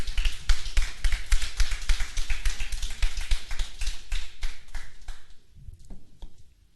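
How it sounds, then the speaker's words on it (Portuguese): Church congregation clapping together, a dense, fast, steady applause that holds loud for several seconds and then thins out and fades toward the end. "Pode aplaudir a Deus."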